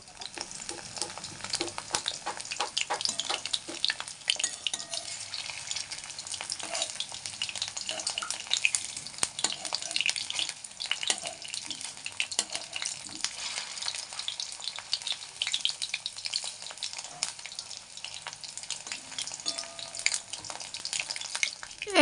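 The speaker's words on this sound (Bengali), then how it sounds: "এই যে পকোড়া ভাজা হয়ে গেছে আমার" Chicken pakora frying in hot oil gives a steady, dense sizzle with crackling bubbles that runs unbroken and fairly close throughout, with no talking over it.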